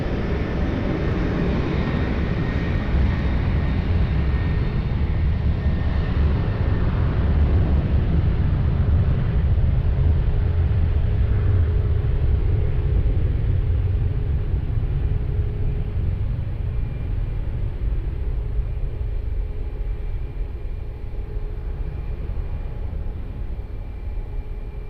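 A jet airliner takes off from runway 20 at Lisbon Airport, a broad continuous roar and rumble heard from a distance that holds steady and then slowly fades, with no voices.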